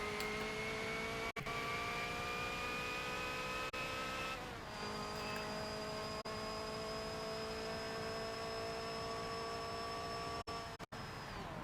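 Race car engine in a Le Mans racing video game, blasting out of the tight Arnage turn and down the Porsche Kurz, a loud steady engine whine with sustained pitch that drops and then rises again through a gear shift, continuous and up close.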